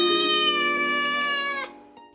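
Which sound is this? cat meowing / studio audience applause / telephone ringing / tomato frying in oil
cat meowing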